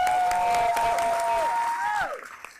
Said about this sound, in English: Please bring her to the stage with a thunderous applause